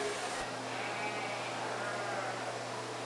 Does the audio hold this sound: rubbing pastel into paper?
no